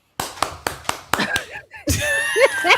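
About six sharp hand claps ring out in quick, slightly uneven succession, close by, followed by people talking and laughing.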